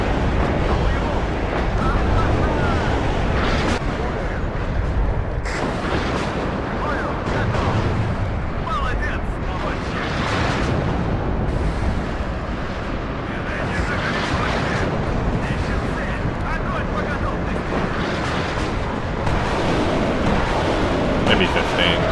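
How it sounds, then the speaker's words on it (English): Heavy rocket barrage from a TOS-1 Buratino launcher in the Cold War strategy game WARNO, a dense rumbling roar of rapid launches and blasts that fills the whole stretch, with talk running underneath. "we just pop a Buratino like here? And we just let it fire like 10 rockets?"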